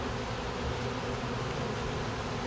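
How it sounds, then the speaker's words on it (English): Dense, steady buzzing of many honeybees around a hive during removal of comb, a continuous close drone with no pauses and no talk. "I have to not crush bees while I do that."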